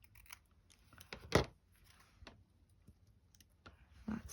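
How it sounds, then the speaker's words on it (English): Scissors snipping paper for a junk journal frame, a few quiet, sharp cuts and clicks spaced irregularly, close and faint in an otherwise still room. "Let's just snip it off at that black."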